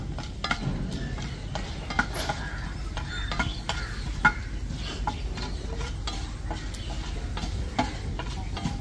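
Urad dal and dried chillies frying in a pan, a faint sizzle under repeated scraping and clicking strokes of a utensil stirring against the metal.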